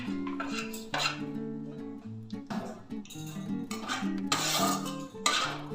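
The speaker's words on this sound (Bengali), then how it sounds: "এগুলোকে ভালো করে একটু নেড়ে চেড়ে নেবো যতক্ষণ না একটা সুন্দর গন্ধ উঠছে" Whole spices and a bay leaf are stirred in a pan, giving scraping and rattling strokes in uneven bursts over steady background music.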